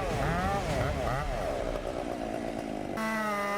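A West Coast Saw Steel 661C chainsaw, 91cc 7.2-horsepower engine with a 90 cm bar, roars steadily at close range cutting a tree, its engine pitch swooping up and down as it bites into wood, then climbing sharply near the end.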